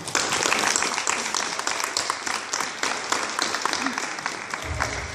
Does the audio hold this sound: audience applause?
yes